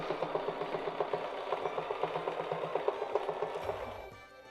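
Sewing machine stitches a tree branch design: a steady, fast, close mechanical chatter of evenly spaced needle strokes for about four seconds, then the motor winds down and stops, with no talking.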